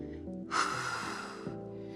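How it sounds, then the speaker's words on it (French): A single loud, deep breath during a Pilates glute workout: a sharp airy inhale or snort-like rush that swells and fades over about a second, close to the microphone, with a faint low tone underneath. "On inspire, on expire"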